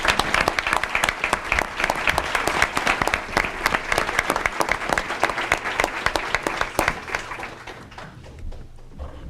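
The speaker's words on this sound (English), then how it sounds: "One more round of applause, please." An audience at a board of education meeting claps in a dense, steady round of applause honoring teaching staff, loud and continuous before thinning out and fading near the end.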